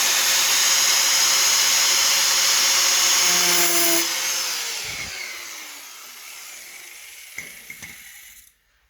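A grinder cutting a slot gives a loud, high whine with a gritty cutting rasp that then winds down slowly as the tool spins down, followed by a few light clanks before it falls silent.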